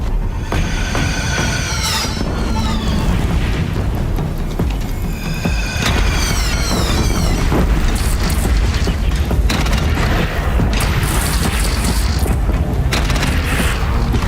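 Cannon fire and explosions in the Horizon Zero Dawn video game, a dense, loud barrage of booms and crashes with whooshing projectiles and mechanical clatter rolling continuously without pause.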